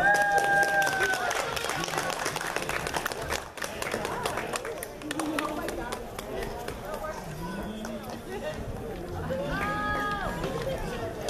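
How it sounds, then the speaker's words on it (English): Audience clapping at a cosplay contest at a Fresno toy, anime and comic convention, busy crowd noise with scattered applause mixed with chatter, a voice on a loudspeaker and shuffling in a large hall. "Round of applause, folks."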